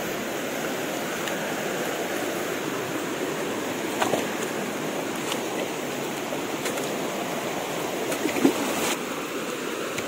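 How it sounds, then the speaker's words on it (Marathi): Steady rain falls close by near a river in an Indian village, a dense even hiss with a few faint knocks and no talk. "पाऊस बघा पडतोय।"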